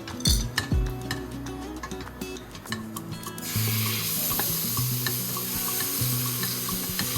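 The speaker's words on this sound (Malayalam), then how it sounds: "അതിന്റെ കൂടെ നമ്മള് ടൊമാറ്റോ പ്യൂരി ഇടുകയാണ്." Tomato puree goes into sizzling masala in a pan for kabsa rice, with a scrape and clatter at first, then a steady close frying sizzle broken by light stirring clinks.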